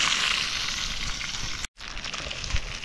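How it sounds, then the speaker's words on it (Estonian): A burger patty fries in a pan with steady, loud broadband sizzling, briefly cutting out for a split second before resuming just as strong. "Mina siin praen oma suhter-muhteri ka valmis."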